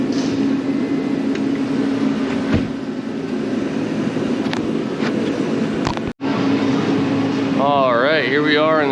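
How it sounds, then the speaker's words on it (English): A loud heater runs in an uninsulated workshop that is still under construction, making a steady, broad roaring hum throughout. A voice talks over it near the end. "Still don't have it insulated yet, so I got this loud heater on."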